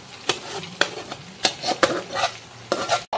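Boiled dal with sautéed mixed vegetables, spices, fried cashews and raisins stirred in a pan: repeated close spoon scrapes and soft clinks over a gentle sizzle.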